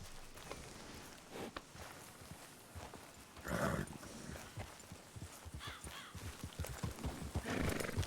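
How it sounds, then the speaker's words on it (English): A Buckskin Roadster horse in a video game gives a loud whinny around the middle and another near the end, with soft clip-clop hoof steps running throughout. "Buckskin Roadster. Sounds like it'll be a pretty nice horse."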